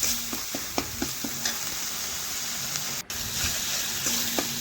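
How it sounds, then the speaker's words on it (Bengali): Spice paste with chili powder fries in hot oil as it is stirred, giving a soft continuous sizzle broken by repeated light scrapes of the spoon against the pan. No one speaks. "একটু মশলাটা ভেজে নিচ্ছি।"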